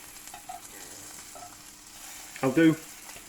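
Bacon strips frying and crisping in a pan, a steady soft sizzle with a louder burst of spatter and crackle near the end, heard on its own with no talk.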